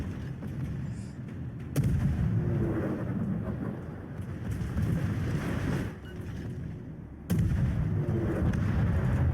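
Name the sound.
warship artillery firing in video game World of Warships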